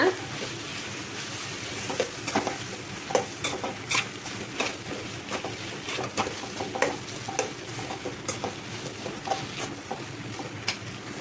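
A utensil scrapes and taps against a frying pan while boiled tapioca is stirred with salt in a vegetable stir-fry, giving irregular clinks and scrapes over a faint sizzle, with someone talking throughout.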